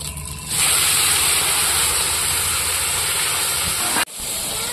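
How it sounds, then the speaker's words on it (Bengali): Whole garam masala, dried red chillies, cumin seeds, bay leaves, tomato and onion hit hot oil with a sudden loud, steady sizzling hiss, close up and continuous, briefly dipping near the end before resuming. "ফোড়ন দিয়ে দেবো গোটা গরম মশলা, শুকনো লঙ্কা, গোটা জিরে, আর এখানে আছে তেজপাতা, টমেটো আর পেঁয়াজ"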